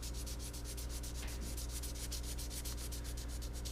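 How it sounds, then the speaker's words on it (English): Light hand sanding with 500 grit sandpaper on the windshield mirror mount area of a 1994 Ford F150, a steady, close rubbing rasp with quick regular strokes and no talking. "I got some 500 grit sandpaper here. We're just going to lightly sand that down."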